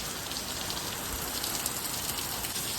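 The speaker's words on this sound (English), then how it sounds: "A little bit of rain" Light rain falls outside a garage during a thunderstorm, making a soft, steady, even patter and hiss throughout.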